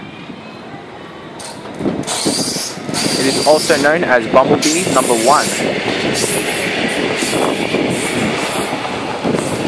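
A Melbourne C2-class tram pulls away from a South Melbourne stop, its rumble and mechanical rattle building loudly from about two seconds in, with someone talking over it.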